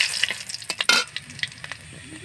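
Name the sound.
bay leaf and crushed ginger frying in oil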